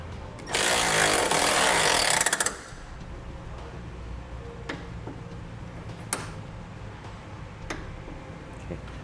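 Power tool driving and tightening bolts on a Roadmaster XL base plate being fitted to a 2006 Honda CR-V: a loud two-second burst of whirring impact, then quieter workshop background with a few sharp clicks and taps.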